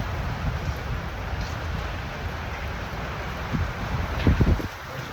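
Steady storm wind buffeting outdoors, a constant broadband roar with brief stronger gusts and rustling near the end, no voices.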